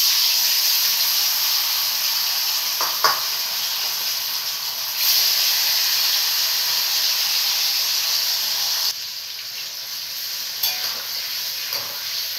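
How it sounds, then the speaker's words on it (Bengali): Paneer fries in hot oil in a wok, a loud steady hiss with a few brief clicks and shifts in intensity, quieter near the end. "তেল গরম হয়ে গেছে, এখন এক এক করে পনিরগুলো ভেজে নেব।"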